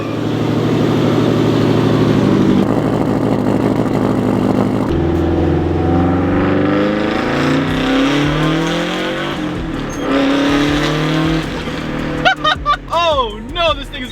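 A Subaru STI fitted with a loud exhaust starts up and idles in neutral, its deep engine rumble shifting through several tones and ending in sharp crackling pops, with people talking close by.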